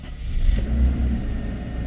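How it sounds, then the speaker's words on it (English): A Mercedes E300 W124, left abandoned for nine years, turns over and catches with a low, close engine rumble that settles into a rough idle. "Let's see if the car starts."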